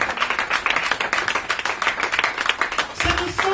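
Church congregation applauding, a quick, uneven patter of many hands clapping together, fairly close and lively, running the full stretch with a brief thicker burst near the end.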